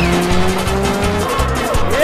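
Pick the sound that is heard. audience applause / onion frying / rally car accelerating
rally car accelerating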